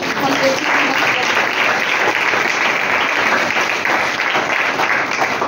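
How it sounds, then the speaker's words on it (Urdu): Loud, steady applause from a church congregation during a Resurrection Day sermon, dense clapping that holds at full strength for several seconds with some crowd voices mixed in. "زوردار تالیاں"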